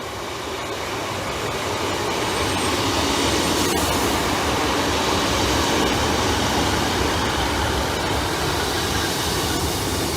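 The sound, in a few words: East Midlands Railway class 156 diesel train 156410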